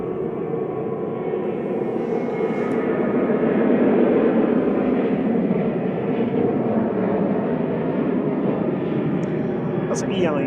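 A Ryanair passenger jet takes off in fog at Manchester Airport, bound for Gran Canaria. It makes a muffled, steady engine rumble at a distance, fairly quiet and unbroken.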